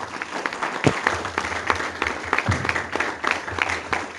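Audience applause for a Distinguished Toastmaster at a club's 50th anniversary evening, steady dense clapping from a room full of people, moderately loud and continuous throughout.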